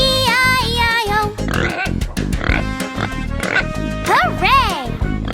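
A cartoon pig oinking in a children's farm song, a run of short nasal grunts mixed tightly into bouncy music and sung vocals.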